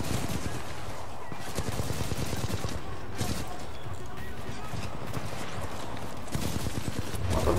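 Gunfire in the first-person shooter Titanfall 2 crackles in rapid bursts through much of the stretch, mixed with other game effects and someone talking over the action.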